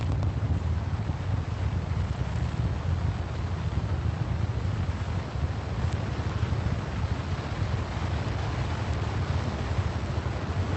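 Four RS-25 engines roar during an SLS static fire test, a constant heavy rumble with wind-like hiss that holds steady for about ten seconds with no talk.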